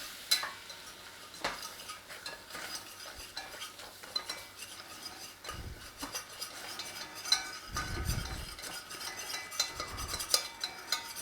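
A utensil stirs butter and flour together in a pan for a quick bechamel sauce, steady scraping and stirring strokes with soft sizzling and occasional clinks of metal, close and alone.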